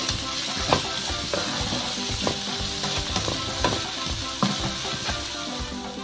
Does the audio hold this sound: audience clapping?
no